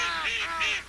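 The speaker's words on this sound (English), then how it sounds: "It's a pelican." A young pelican gives a short, harsh, raspy call, close and fairly loud, lasting under a second with two swelling bursts and no talk over it.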